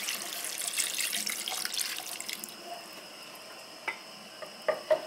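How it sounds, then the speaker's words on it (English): Hot water pours into a pot of browned beef stew, a hissing stream for a couple of seconds that stops, followed by a few faint drips and a soft clink. "2 cups of hot water"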